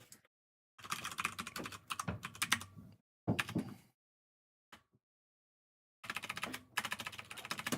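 Rapid, dense clicking of fingers typing on a computer keyboard comes in three bursts separated by pauses, fairly quiet and close, with no talking.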